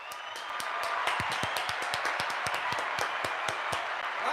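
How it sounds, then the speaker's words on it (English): A crowd clapping hands in steady rhythmic unison, many sharp claps about four per second, fairly close over a background murmur of voices. "one more time, Pop. Hand claps."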